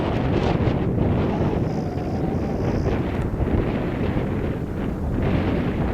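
Strong wind roars over an open highway on the edge of a small prairie town in Saskatchewan, buffeting the microphone in a loud, steady rush that never lets up.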